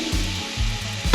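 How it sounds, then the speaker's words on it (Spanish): Fish stock poured into a sizzling flour roux for garlic prawn croquettes sets off a loud, steady frying hiss with low bubbling pulses and a stir near the end. "Y ahora le vamos a añadir el caldo de pescado y la leche"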